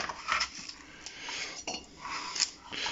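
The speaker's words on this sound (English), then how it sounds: "I'm going to thinly slice them." Knife slicing red onions thinly on a board, giving light, irregular cutting clicks and taps over roughly three seconds, close and fairly quiet, with faint kitchen clatter and no speech.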